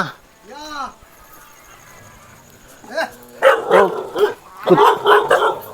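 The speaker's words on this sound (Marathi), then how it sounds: "दादा कुत्रे बघा" A dog in a tribal village settlement gives one short, close yelp-like bark. After a quiet stretch, people talk over it.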